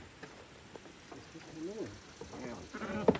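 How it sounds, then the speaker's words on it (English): Sheep in a farm flock call with a wavering bleat midway through, faint against background noise, and a sharper bleat near the end. "We're going to go load her up because her sister's calling for her."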